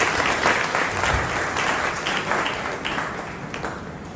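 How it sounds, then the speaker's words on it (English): Sustained audience applause at the opening ceremony of a leadership training program in Accra, a dense wash of many hands clapping steadily for about four seconds and fading slightly toward the end, with no speech over it. "please give them a round of applause once again"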